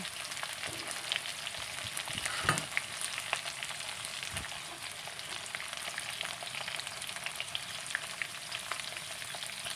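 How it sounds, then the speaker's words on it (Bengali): Onions frying in a pan while being stirred slowly, a steady soft sizzle with scattered scraping strokes of the spoon and no talk. "পেঁয়াজগুলো আস্তে আস্তে নাড়তে থাকবো"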